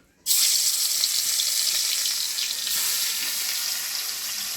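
A fish head dropped into smoking-hot oil bursts into a loud, sudden sizzle after a brief quiet moment, then keeps hissing and spitting steadily and close up with no pause.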